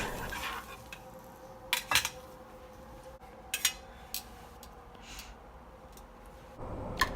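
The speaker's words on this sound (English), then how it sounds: "Consistently mix the gravy until it's about a consistency like this." Spoon stirring thick gravy in a pot, with soft scrapes and several light clinks of the spoon against the rim, quiet and close, spaced irregularly.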